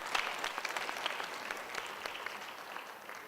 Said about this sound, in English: can we give our out-of-town delegates a big round of applause?